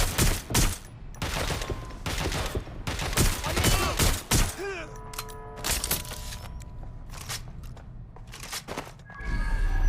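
Gunfire in the video game Watch Dogs: Legion: rapid bursts of shots in quick succession, loud and close, broken by brief pauses and a ringing metallic tone, with short game sounds in between.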